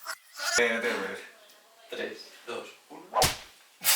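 A film punch enhanced with designed sound effects: a sharp whip-like impact crack stands out near the end, amid scattered short hits and bursts of vocal-sounding noise across the few seconds.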